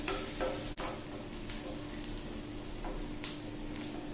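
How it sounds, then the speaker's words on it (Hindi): Onions lightly frying in a pan, a quiet, steady sizzle with occasional soft clicks and stirring knocks, including one sharp tap near the start. "प्याज को लाइट फ्राई करेंगे।"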